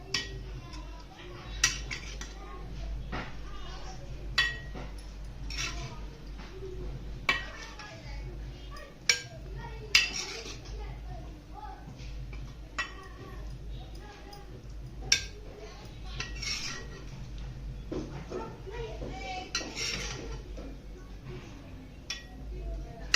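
Plates and cutlery clink sporadically while spicy dry bombil (Bombay duck) masala is served, sharp isolated taps and chinks spread over a quiet background, with someone talking throughout.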